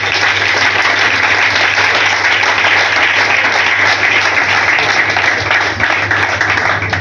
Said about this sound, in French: Acclamons la parole du Seigneur.